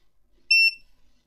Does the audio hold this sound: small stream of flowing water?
no